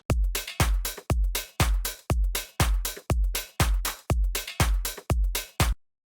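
Drum pattern from the drop of a remix: about eleven heavy, evenly spaced hits with deep booming lows and bright crisp tops, loud and steady, ending abruptly in silence.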